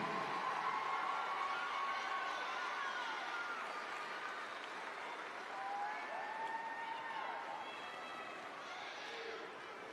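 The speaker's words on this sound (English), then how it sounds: "one more time, a big round of applause" A crowd in a basketball arena at a boys' high school state championship applauds for the all-tournament team, steady clapping with cheers and shouts, fairly distant and sustained.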